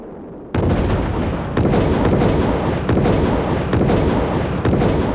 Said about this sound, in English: There's a film that shows this thing going bang, bang, bang, and up it goes a ways.